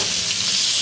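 A fish, still partly frozen from the fridge, fries in a hot pan, giving a loud, steady, close sizzle throughout the short moment with no talk.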